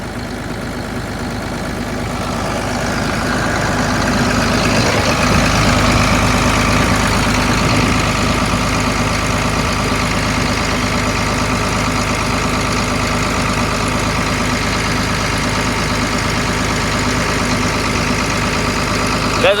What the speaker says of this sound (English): That is a strong running motor.